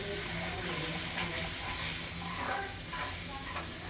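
Onion masala mixed with roasted peanut powder sautéing in a pan, a steady close sizzle with soft scraping and stirring movements layered over it and no talking.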